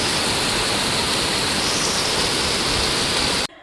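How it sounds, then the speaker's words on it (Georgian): Heavy rain pours down as a loud, dense, unbroken hiss that fills the whole stretch and then cuts off abruptly near the end. "აი კოკის პირული წვიმა"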